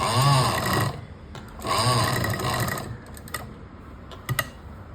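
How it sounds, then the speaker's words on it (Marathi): A sewing machine stitches a fabric pouch in two whirring runs, each about a second long, with quieter pauses and a few sharp mechanical clicks between them. "इथून मी शिलाई मारायला सुरुवात करते"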